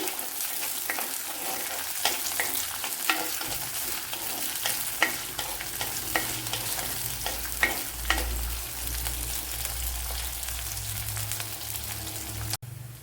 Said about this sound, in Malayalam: ഒരു ശകലം കറി ലീവ്സ് കൂടെ ഇട്ട് കൊടുക്കുക ഇനി ഇതൊന്ന് മൂത്ത് വരണം